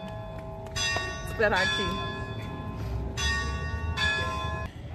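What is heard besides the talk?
cathedral church bell ringing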